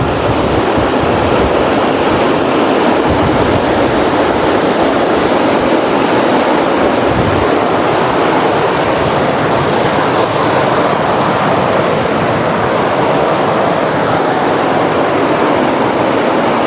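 The Tuntang river flowing, a loud, constant rushing roar of water that stays unbroken throughout, with no voices.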